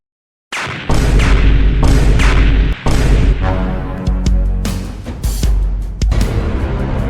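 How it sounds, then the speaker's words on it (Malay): Deep rumbling booms and crashing bursts roll on continuously, loud and dense, with repeated heavy impacts from a volcano eruption in the Roblox game Brookhaven. "Gunung berapi itu meletup dan banyak batu panas keluar."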